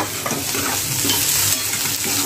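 Lentils and tomato fry in hot oil with a steady close sizzle, and a spoon stirs and scrapes through the pan. No voice is heard.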